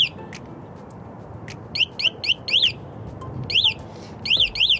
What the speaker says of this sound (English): There's a little key fob right here, and then if I press that, you can hear it just locks it.